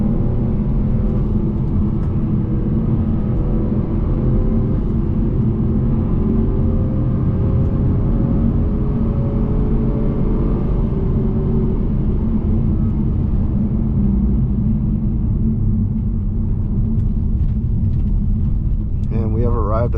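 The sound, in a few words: 2022 Acura TLX A-Spec 4-cylinder engine on canyon drive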